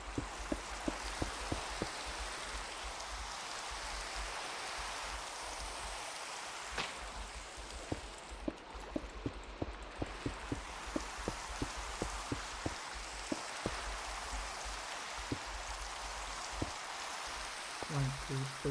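Steady rain falls in a VR Minecraft world, a continuous wash of patter with many distinct drops tapping throughout, fairly close and even in level, with no talking over it.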